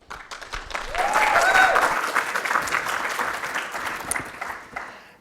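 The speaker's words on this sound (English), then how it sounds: "If we could have a round of applause welcoming her." A conference audience claps in sustained applause to welcome a speaker onto the stage, a broad dense patter swelling in the first second and holding steady before slowly thinning, with faint crowd noise underneath.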